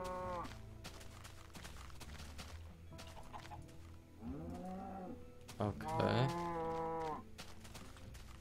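Minecraft cows moo repeatedly in the blocky video game, several drawn-out lowing calls rising near the end, over steady background game noise with a brief spoken word.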